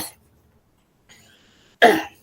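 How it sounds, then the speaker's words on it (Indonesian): A person with a cold and flu gives a single harsh cough near the end, preceded by near silence and a faint throat sound. "kebetulan kurang enak badan, jadi ada agak batuk nih dan flu juga"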